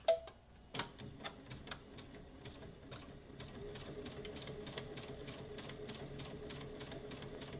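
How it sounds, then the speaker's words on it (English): A sewing machine stitches a 1/4 inch seam joining fabric front pieces for an Easter basket. A few separate clicks and thumps come first, then a steady, rapid mechanical stitching rhythm runs close by without pause. "I'm going to sew one of the sides using a 1/4 inch seam allowance."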